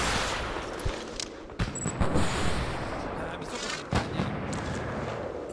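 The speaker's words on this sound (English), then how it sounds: "we are taking heavy RPG fire" Heavy RPG fire and explosions in Ghost Recon Advanced Warfighter: a dense, continuous fusillade of gunshots with sharp blasts around the second and fourth seconds, all fairly close.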